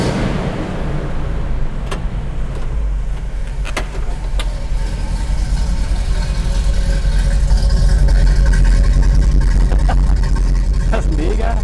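A 1978 Chevrolet C10 with a 454 cubic-inch V8 idles through its exhaust, a deep, loud, continuous rumble that swells slightly near the end while someone talks over it.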